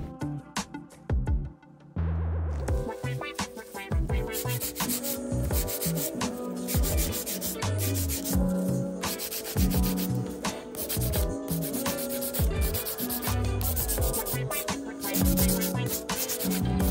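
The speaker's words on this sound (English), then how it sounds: "I will then go on and use my buffer to remove any scratches that the hand file created" A nail buffer rubs back and forth over acrylic nails in steady, rapid strokes, a close, continuous scratchy sanding sound that carries on without pause.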